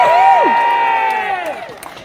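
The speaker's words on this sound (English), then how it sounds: "everybody please give me a cheer to defend our NDIS" At an NDIS defence rally, a crowd bursts into loud, close cheering and whooping, which swells and then tapers off over a couple of seconds.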